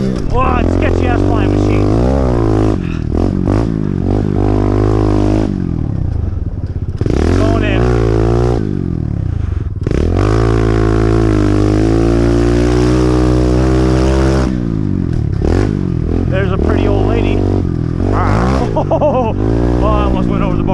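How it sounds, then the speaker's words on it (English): A dirt bike rides laps on a backyard mini bike track, its engine loud and close, revving up and down continuously with throttle blips and shifts, while a rider talks over it. "who loves nothing more than riding a dirt bike"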